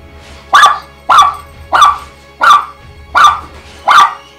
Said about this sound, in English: Uh-oh, Fern's gonna bark